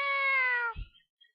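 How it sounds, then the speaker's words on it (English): A single clear cat meow, drawn out and slightly falling in pitch, followed by a brief soft thump and quiet. "I heard that there's a cat auditioning over there."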